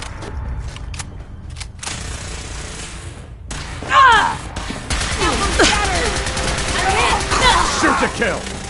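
Bursts of gunfire ring out in a Fallout 4 battle, loud, close rapid volleys and single shots with thuds and impacts piling up in the second half, while game characters shout over the fighting.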